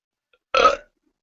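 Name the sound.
burp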